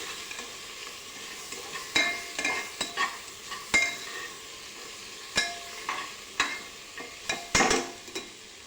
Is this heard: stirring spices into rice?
yes